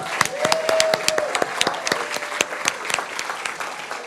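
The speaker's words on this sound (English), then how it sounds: "So let's give a round of applause for David" A hall audience at an award ceremony claps steadily and loudly, sharp overlapping hand claps filling the room, with a brief tone sustaining underneath.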